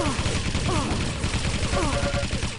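Dense, rapid machine gun fire crackles nonstop in a Quake Live team deathmatch, loud and close under a fast-talking commentator, with other game effects mixed in.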